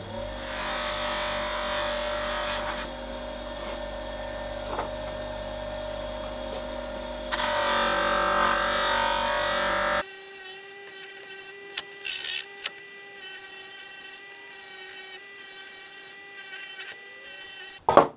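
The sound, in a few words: bench grinder polishing wheel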